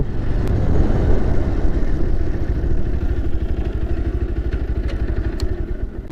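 A motorcycle ridden near a river bridge gives a steady, loud engine rumble throughout, a continuous close drone with faint clattering.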